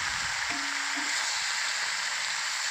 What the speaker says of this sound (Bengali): তো লাউটাকে আমি একটু ভালো করে কষিয়ে নেব